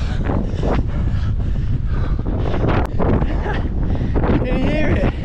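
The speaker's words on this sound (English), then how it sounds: "The wind is mental up here." Strong mountain wind buffeting the microphone, a loud continuous roaring rumble with gusty surges, while someone talks and exclaims over it.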